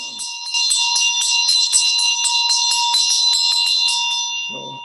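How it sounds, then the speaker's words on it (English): A ritual bell rung during a Medicine Buddha mantra rings in a rapid, steady series of bright metallic strikes for several seconds, sustained shimmering tone, close and alone, then a brief low sound at the end. "So ring the bell"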